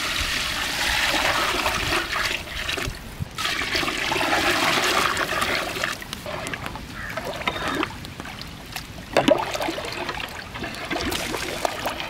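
Water gushes and splashes steadily into a cooking pot for mutton leg biryani, a loud continuous pour lasting several seconds with brief dips and a few sharper splashes.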